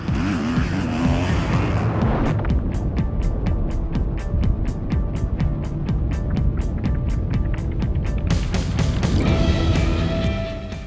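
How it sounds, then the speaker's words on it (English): Ducati Desmo 450 MX Factory motocross bike ridden hard on a dirt track, the single-cylinder engine rising and falling loud and close with a rapid, pulsing exhaust rhythm and sharp gear-change revs, no talk. "This is the Desmo 450 MX Factory, designed and engineered to get the highest level of performance on every track."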